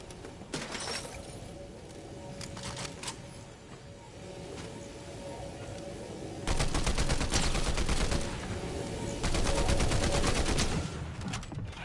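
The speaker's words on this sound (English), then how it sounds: "I've got a cover fire assault rifle" Rapid assault rifle bursts from the video game Fortnite, several long strings of gunfire with pauses between, the later volleys louder and denser.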